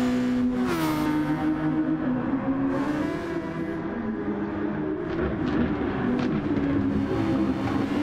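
Race cars in the F1 2019 video game at Sardegna, two running close together with steady high engine drones that shift pitch as they rev through gears, continuous and loud, with no speech.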